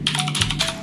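Clicky keystrokes tapped in a quick run on a Drop ALT 65% mechanical keyboard, close and distinct, with no voices.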